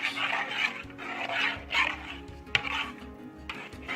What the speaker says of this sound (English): we're just using a spoon so that when we mix it, there aren't any clumps in it